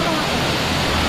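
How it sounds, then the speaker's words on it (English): Loud, steady roar of a waterfall in Meghalaya, India, heard up close as a dense wall of rushing water with no breaks. "Should we walk under there, under the waterfall?"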